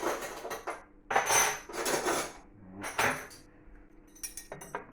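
A metal spoon scrapes and clinks against a strainer while pressing coconut pulp through, in several short bursts of scraping with quiet gaps between them.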